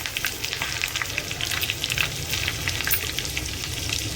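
Mustard seeds, green chili and curry leaves crackle and sizzle steadily in hot oil for a tadka over dal khichdi, a dense, continuous spattering hiss with sharp pops, close and fairly loud, no voices.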